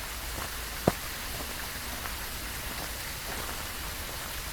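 Steady rain falls in Phasmophobia at a campground, a soft continuous patter with one sharp click early on; no one speaks.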